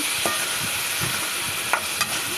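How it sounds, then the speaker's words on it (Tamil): Tomatoes and green chillies sauté in a pan for a bitter-gourd tamarind curry, a steady loud sizzle with a few sharp stirring scrapes and clinks, no voices. "தக்காளியையும் போட்டு அதை ஒரு ரெண்டு நிமிஷம் நல்லா வதக்கி விடலாம்"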